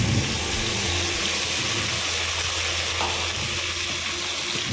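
Ginger, garlic and coconut paste hitting hot oil with fried green chillies, a steady loud sizzle throughout for a village-style vegetable pulao, with no talking.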